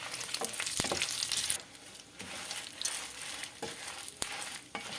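Chillies fry in a few spoons of oil in a pan, making a close, hissing sizzle with occasional stirring scrapes. The sound is loudest at first, then settles to a quieter, steady crackle.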